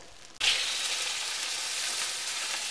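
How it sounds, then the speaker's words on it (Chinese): Eggs and tomato frying slowly in a wok over low heat, a soft hiss that jumps up suddenly as food hits the pan, then settles into an even, close, steady sizzle. "小火慢煎啊"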